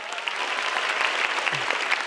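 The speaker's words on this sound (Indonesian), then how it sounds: "Boleh minta tepuk tangan sekali lagi teman-teman" Nearly a thousand people at a stand-up comedy show applaud in a dense, sustained wash of clapping, fairly loud and steady, with no talk over it.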